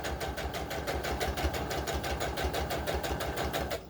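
A sewing machine runs a steady back stitch along the curved waist of a 20-inch doll dress lining made from McCall's 2162 pattern, its rapid, even needle clatter close and continuous, with no talking.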